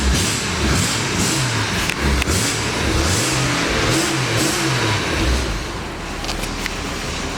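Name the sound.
1963 Ford Falcon six-cylinder engine starting and running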